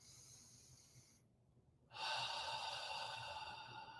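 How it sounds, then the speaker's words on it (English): Slow breathwork: a soft airy inhale through the nose, a brief quiet pause, then a fuller, louder exhale out through the mouth, close and steady with no talking. "start breathing through your nose and out your mouth, just like this"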